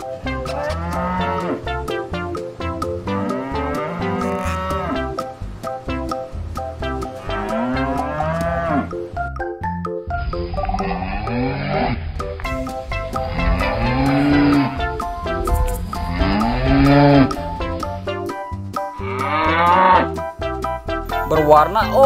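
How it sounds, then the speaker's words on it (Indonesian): A mother water buffalo lets out repeated drawn-out moos over a busy, tonal backdrop, loud and close, continuing for about twenty seconds. "ada induk kerbau."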